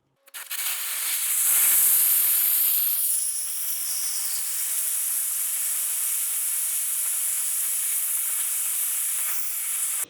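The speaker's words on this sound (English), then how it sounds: "I'm going to use it to air down and get this tire to 0" Air hissing out of an off-road tire through a Monster valve on an Icon PRO Innerlock wheel, a loud, steady, close hiss that starts abruptly, swells briefly, then holds continuously to the end.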